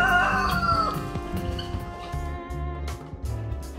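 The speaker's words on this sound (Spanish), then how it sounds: "gallinas, que son los animales más madrugadores de la finca" Chickens cluck and squawk close by while a rooster crows at dawn on a farm in Chinda, Santa Bárbara, Honduras, with layered bird calls overlapping over a low background murmur.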